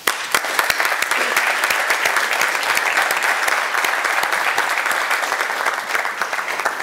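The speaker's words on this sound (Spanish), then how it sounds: "y les pido un aplauso para ellos." Loud, sustained applause at an anniversary session of the El Bierzo regional council, a dense patter of many hands clapping steadily from start to finish with no talk over it.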